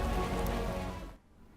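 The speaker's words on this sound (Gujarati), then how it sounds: "પવન સાથે ધીમી ધારે વરસાદની શરૂઆત થઈ હતી" Light, steady unseasonal summer rain with wind in Unjha, Gujarat, patters and hisses for about a second before abruptly cutting off to near quiet.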